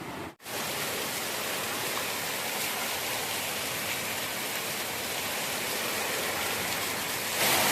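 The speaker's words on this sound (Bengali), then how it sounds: "প্রচুর বৃষ্টি হচ্ছে এই মুহূর্তে, প্রচুর বৃষ্টি।" Heavy rain from a Kalbaishakhi storm pours down in a dense, steady, close hiss. It continues unbroken with no voices.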